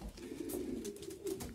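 Domestic racing pigeons coo steadily in a low, throaty rumble, several overlapping calls close by in a loft being readied for a first race, with no talking.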